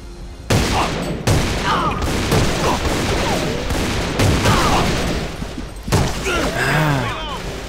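Rapid bursts of automatic gunfire crackle through a firefight in the shooter game AVA, several volleys separated by brief pauses, loud and close, with a voice faintly audible underneath.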